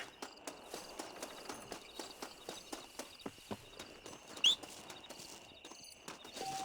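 Horse hooves clip-clopping in steady, even rhythm in the Red Dead Redemption video game, moderately close and fairly quiet, with one brief brighter chirp partway through and no talk.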